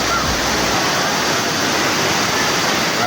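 A waterfall near Bucari Pine Forest in Leon, Iloilo, gives a loud, steady rushing wash of falling water that fills the whole moment without pause.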